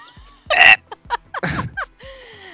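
A person burps loudly several times in quick succession, a few short gulping eructations broken by brief pauses, close to the listener with no talking.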